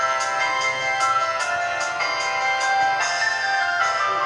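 An itel it2173 basic phone plays its startup tune over its loudspeaker: a bright, loud melodic jingle of repeated chiming notes lasting several seconds, alone with no talking.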